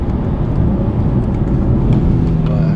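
An Infiniti Q60 S engine during downshifts: a loud, steady, close rumble with a dense low growl and a faint higher whine above it, holding level throughout with no voices.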